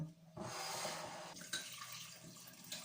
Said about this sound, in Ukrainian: Заливаю кип'ятком